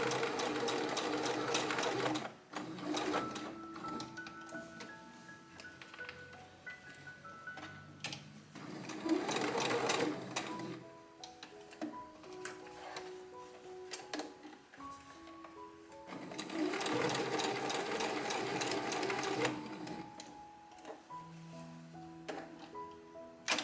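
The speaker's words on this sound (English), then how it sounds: "So I will go to the sewing machine and quickly stitch a little rectangle on top of this." A sewing machine stitches a small rectangle onto fabric in repeated bursts of rapid mechanical whirring, with short pauses between runs as the fabric is turned, close and alone.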